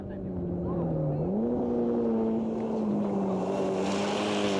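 A rally car in the 1993 Canadian Rally Championship runs at full throttle, its engine droning loud and steady, dipping briefly as it shifts up a gear and then climbing again, with wind noise and a commentator talking over it.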